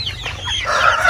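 Chickens at a poultry farm with breeder birds cluck and crow in a brief, close burst of overlapping calls.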